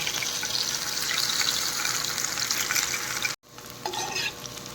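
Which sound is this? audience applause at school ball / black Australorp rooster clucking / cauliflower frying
cauliflower frying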